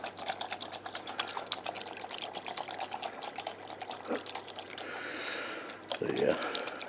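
Gasoline trickles and splashes as it drains from the crankcase of a lawn tractor's 24 hp Briggs engine, a steady close liquid pour with small drips and handling clatter toward the end.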